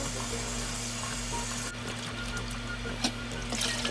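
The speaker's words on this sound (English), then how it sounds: "So now you have to wash the string beans." Running water streams steadily from a faucet as string beans are washed in a sink, a constant close splashing hiss with a low mechanical hum beneath it and a few faint clinks, no speech.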